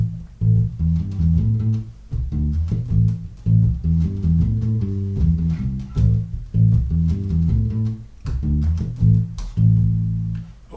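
Electric bass guitar groove built on the minor pentatonic scale, a steady repeating line of deep plucked notes with short gaps and percussive attacks, loud and solo with no talking.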